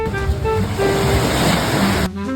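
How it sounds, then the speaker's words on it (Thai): Ocean waves wash near a seaside restaurant in Sriracha, a loud continuous surf rush with faint tonal hum and background noise, cutting off abruptly near the end. "ฟังเสียงคลื่นทุกคน"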